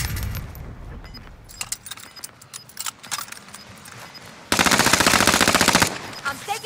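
Gunfire in Warzone Rebirth Resurgence, scattered shots and clicks followed by a loud sustained burst of automatic fire lasting over a second, with game sounds behind.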